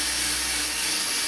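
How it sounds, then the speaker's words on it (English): An oxidized car headlight on an MR2 Spyder is wet-sanded by hand. The result is a continuous, close, bright scratchy rasp with a steady loud texture and no pauses. "You're sanding the headlight."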